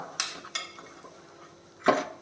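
A ragi bun dosa is flipped on a pan over a low flame: three sharp metallic clanks and scrapes of a spatula, two close together early and one near the end, with quiet between.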